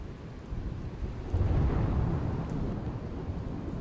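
Unseasonal rain falling across Surendranagar district in Gujarat, with a low, continuous rumble of thunder that swells midway and steadies beneath a broad hiss of rainfall, no voices present.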